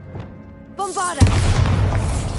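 A Bombarda spell explosion in Hogwarts Legacy, a short rising magical cast followed by a loud, deep boom that rumbles on for over a second.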